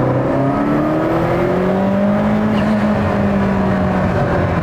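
A Ferrari F40 engine drones steadily and climbs in pitch as it revs hard near redline, a sustained, loud mechanical whine with road noise underneath.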